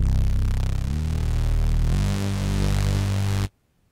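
A deep Omnisphere synthesizer bass note, built from a sine wave, throbs steadily, stepping to new pitches twice before cutting off abruptly near the end.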